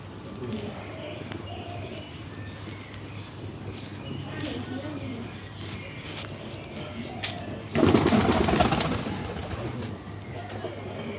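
Pet pigeons coo softly and shuffle close by under a voice, then a sudden loud burst of wing flapping rises for a couple of seconds before settling.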